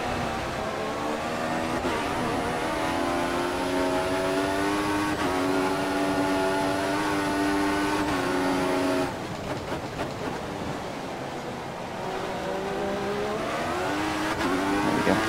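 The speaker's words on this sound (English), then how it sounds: "You can just hear the turbo kicking in when you get too hard on the throttle." An F1 car in the F1 2014 racing game at Malaysia drones loudly with a high engine tone, turbo whine swelling and dropping through gear changes as the throttle is pushed hard, with no talk.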